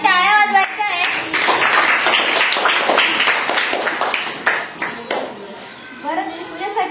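Children in a village primary school classroom clap together during a quiz, a dense burst of small-hand claps lasting several seconds over scattered young voices, then fading as a voice returns.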